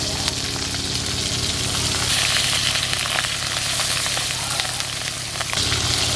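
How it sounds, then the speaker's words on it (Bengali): Bata fish frying in oil in a home kitchen, turned once, giving a dense continuous sizzle with scattered crackles and pops, close and steady with a brief dip near the end. "মাছগুলো এক পিঠ ভাজা হয়ে গেছে"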